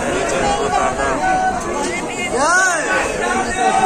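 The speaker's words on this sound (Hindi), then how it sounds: "तो गेट खुल चुका है और ये भीड़ बहुत सारी है" Dense crowd at the opened gate of Sharda Devi temple in Maihar, a close, continuous babble of many voices with one person talking over the hubbub.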